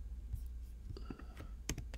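Computer mouse clicking checkboxes in software, a few faint, sharp clicks spaced irregularly over about two seconds in a quiet room.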